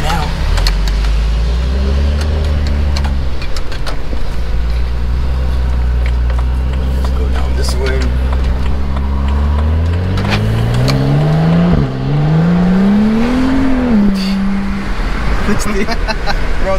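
A tuned Stage 2+ BMW 135i revs and accelerates up close, its loud engine climbing steadily in pitch with a brief shift dip before rising again.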